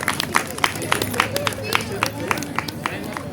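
Rhythmic group clapping at a leadership and personality development session, sharp regular claps mixed with crowd babble and voices close by.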